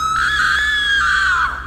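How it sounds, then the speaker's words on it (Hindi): A woman's loud, sustained high-pitched scream, a dramatic horror-style sound effect lasting over a second, heard alone and close with a slight fade at the end. "वो बहुत तेज चिल्लाती हैं।"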